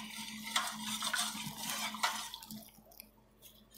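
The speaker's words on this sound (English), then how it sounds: "So I'm just going to stir." A homemade skin-whitening cream mixture being stirred in a container, giving soft, faint scraping and squishing strokes in an irregular rhythm over a low steady hum.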